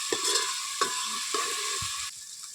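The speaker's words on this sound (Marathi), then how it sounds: "आलं लसूण पेस्ट ना चांगले असं भाजून घ्यायचे" Ginger garlic paste fries in a pan for a Malvani-style mutton curry. A steady close sizzle is broken by three scraping stirs of a spatula.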